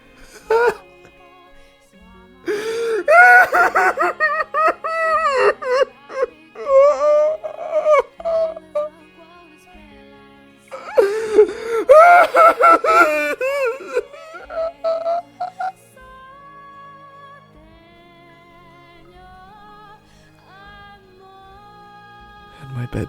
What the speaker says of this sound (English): my bedchamber was enveloped in the sound of weeping. She cried like a little child.